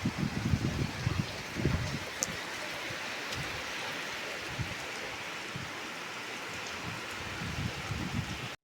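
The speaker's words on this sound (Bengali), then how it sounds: "বিভৎস বৃষ্টি এসছে আবার। কবে থামবে কে জানে, একবার করে আসছে তো মুষলধারে হচ্ছে।" Heavy downpour of rain falling steadily outdoors during a stormy spell, a constant dense hiss with occasional louder gusts and splashes, fairly close and continuous.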